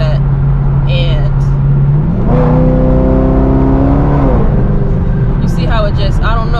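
A Camaro SS V8 running rough and unrefined, its steady idle drone rising into a revving surge and then easing back down, loud and close throughout.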